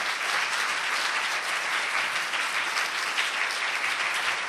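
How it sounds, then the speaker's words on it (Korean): Steady, dense audience applause at a 2017 talk concert fills the whole stretch at an even, fairly loud level, many hands clapping together with no talk over it. "다시 한번 우리 양기리님의 큰 박수 한번 부탁드립니다."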